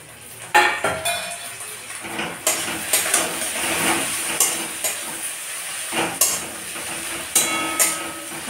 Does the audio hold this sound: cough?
no